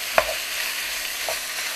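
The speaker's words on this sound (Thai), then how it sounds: "ก็สิร่วนเนื้อให้สุกก่อนเนาะจังสิเติมอย่างอื่นจ้ะ" Beef stir-frying in a pan for a Thai herb stew, an even hissing sizzle with one sharp tap of a utensil near the start and a softer scrape later.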